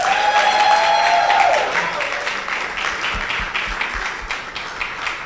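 A conference audience at the Prudential Africa Sprint to MDRT 2024 event applauds an honoree from Uganda. Steady, dense clapping fills the hall, loudest at the start with a brief tonal sound, then settles into a continuous wash with a few low thumps.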